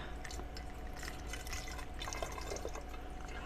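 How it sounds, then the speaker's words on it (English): Isopropyl alcohol poured slowly into a graduated cylinder, giving a faint, steady trickle and dripping of liquid close by with no talk. "I'm just going to start pouring it very slowly into my graduated cylinder"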